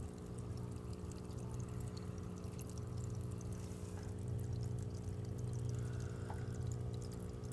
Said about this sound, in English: Yeah, the water's moving too much.